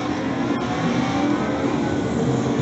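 Race cars, including a Ferrari, drone past in a steady engine roar during racing at Abu Dhabi, a continuous loud revving blend with no pauses.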